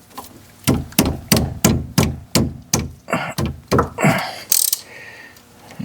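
A brake caliper bolt on a 2011 Ford Fiesta being loosened with an adjustable wrench: about ten loud, evenly spaced metallic knocks and clunks, close by, followed by a couple of rougher scraping turns, with no talking.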